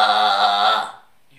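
A voice imitates a wild animal's growl using Kargyraa throat singing, a deep rasping drone with rich overtones held loud and steady for nearly a second before cutting off, followed by a faint brief sound.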